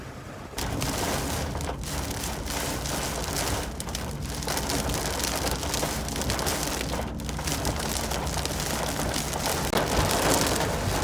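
Steady rain falls on a surface, a dense continuous hiss with scattered drops, fairly loud and unbroken for the whole stretch, with no voices.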